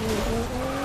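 A car drifts in Need For Speed 2015, a sustained tire squeal over a steady engine note, loud and continuous for a brief moment.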